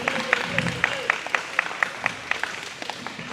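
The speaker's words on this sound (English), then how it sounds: "Renee deserves a round of applause." Supporters at a 2021 campaign watch party clap in a steady, evenly spaced rhythm, crisp near claps beating about four times a second, with a voice heard briefly near the start.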